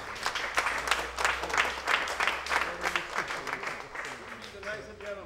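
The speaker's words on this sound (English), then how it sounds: "Please give him a good hand of applause" An audience at a security guard company event claps in moderate, steady applause that runs throughout and fades gradually toward the end.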